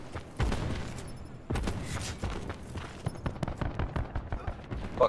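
A PKM machine gun fires in the Black Ops 4 video game, a quick run of sharp shots in a steady rhythm that follows a few heavier blasts. A voice talks over the gunfire.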